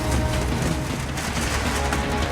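Gunfire erupts in a tense film scene, a dense, continuous burst of loud shots and booms filling the whole moment with no pause.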